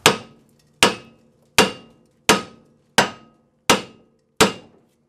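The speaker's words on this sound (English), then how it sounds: "Sometimes you can knock on these and it'll pop them loose." Seven sharp metallic hammer strikes on a Jeep Liberty front suspension part during a lift kit install, evenly spaced about every 0.7 seconds, each loud and close with a short ringing decay.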